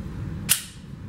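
A single sharp Glock 43 pistol shot on a shooting range, a sudden loud crack that fades quickly into low background noise.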